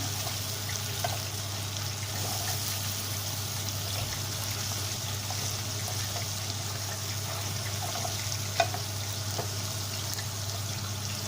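A spiced filling of black pepper, cumin, red pepper flakes, salt and tomato paste sizzles steadily as it sautés in a pan for karnıyarık, a constant soft frying hiss with no talking.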